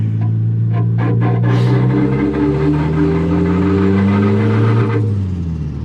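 A car's engine hums steadily while driving, with an even mid-pitched drone and a gradual rise in tone as it accelerates, heard close and alone.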